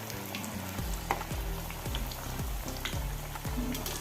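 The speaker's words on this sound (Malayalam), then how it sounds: "ഇതുപോലെ ഒന്ന് എണ്ണ കോരി ഒഴിച്ചാൽ മതി." Chana and soybean vada fry in hot oil, a steady dense sizzle with repeated soft scraping strokes as oil is ladled over them, close and continuous with no talk.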